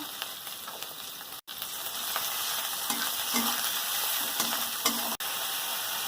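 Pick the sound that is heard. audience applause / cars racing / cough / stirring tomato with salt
stirring tomato with salt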